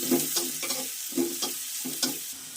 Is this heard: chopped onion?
yes